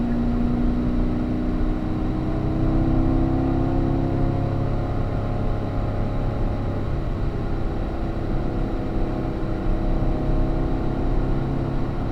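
A race car accelerates hard out of a corner on a track, its engine note rising steadily and staying loud and continuous throughout with no talk over it.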